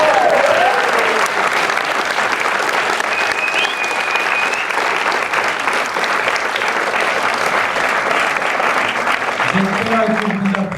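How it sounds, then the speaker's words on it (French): Sustained festival audience applause at a French film festival awards event, a dense steady clapping that fills the whole stretch, with a few whistles and voices rising from the crowd. "J'espère que vous applaudissez pour toute l'œuvre."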